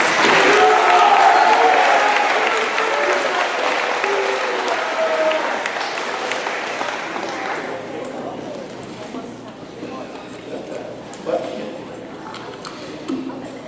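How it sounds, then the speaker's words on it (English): Audience applause at a school awards ceremony, loud sustained clapping at the start that gradually thins and fades over about thirteen seconds, with scattered claps lingering at the end. "let's give a round of applause for our SRO Dooner."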